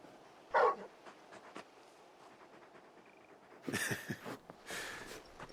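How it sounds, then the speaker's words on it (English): A large dog in the video game Final Fantasy XVI gives a few short barks and yips, spaced apart, with quiet ambience between. "You're just a big puppy, aren't you? A very big puppy."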